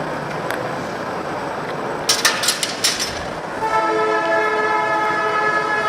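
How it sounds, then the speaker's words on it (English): A train rumbles steadily past under a continuous broadband roar, with a cluster of sharp clanks near the middle, then a long sustained horn blast sounds loud and close through the final seconds. "Train coming."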